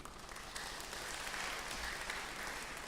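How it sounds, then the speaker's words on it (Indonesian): Audience in a Sunday church service breaks into steady, dense applause, a continuous wash of clapping at moderate distance with no pauses throughout. "Tepuk tangan jotu nasida."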